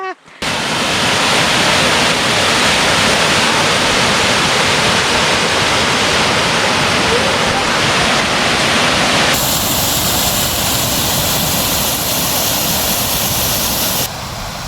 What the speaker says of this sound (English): just past that beautiful waterfall as you saw